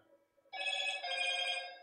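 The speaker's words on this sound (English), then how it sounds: "Judging by how the phone's going mad." A telephone rings with a steady, bright electronic trill that starts abruptly and continues loud and close, with no talk over it.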